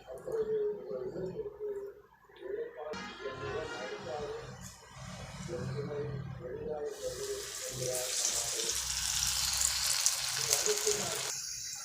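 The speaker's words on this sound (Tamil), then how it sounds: "நம்மளுடைய வெஜிடேரியன் லாலிபாப் வந்து ஃப்ரை ஆகிட்டுருக்குது பாருங்க" Vegetarian lollipops rolled in breadcrumbs deep frying in hot oil, a steady bubbling sizzle that swells louder in the second half, with a person talking over it throughout.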